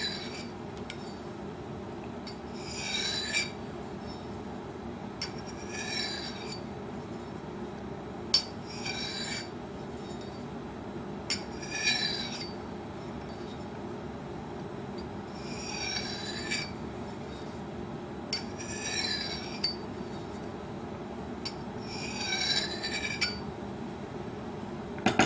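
A tomahawk edge is drawn across a sharpener in slow, evenly spaced strokes, each a short raspy scrape, about eight in all, faint and close over a low steady background hum, with no talk.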